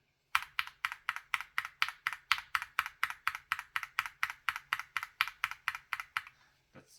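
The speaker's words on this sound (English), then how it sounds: "here's what it sounds on our board" Gateron G Pro 3.0 Yellow, Silver and Brown switches in stock, unlubed form, typed on a mechanical keyboard: a steady run of about twenty crisp, evenly spaced keystrokes, close and clear, stopping near the end.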